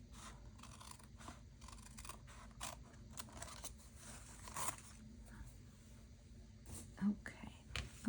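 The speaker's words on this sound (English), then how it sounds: "I'm gonna cut this one off." Quiet snips and rustling of scissors cutting something off, several short crisp cuts spread across the clip amid soft whispering and handling noise.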